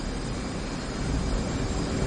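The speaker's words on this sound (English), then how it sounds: "Afterburner" Jet afterburner roar in the DCS flight simulator game, a steady, loud broadband rumble with deep low-end weight that holds constant for about two seconds with no voices.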